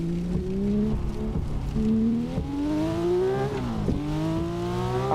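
Porsche 911 GT2 RS (992) engine in a racing video game, revving steadily with rising pitch through gear changes, continuous and close for several seconds with no talk.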